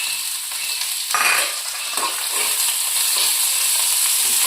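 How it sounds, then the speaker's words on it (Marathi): Chopped onion dropped into hot oil for Kolhapuri misal masala gives a continuous bright sizzle, flaring louder around the one-second mark as it hits the pan, with occasional stirring clinks. "तेल गरम झालेलं आहे, तर कांदा भाजायला टाकूया आपण"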